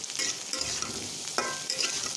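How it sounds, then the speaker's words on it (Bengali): Dried fish (chapa shutki) frying in oil while being stirred, a close steady sizzle broken by scraping strokes of a utensil against the pan, with no talking. "এটা আমি সুন্দর করে নাড়াচাড়া করব। এটা আস্তে আস্তে জালে সুন্দর করে এটা ভেজে নিব।"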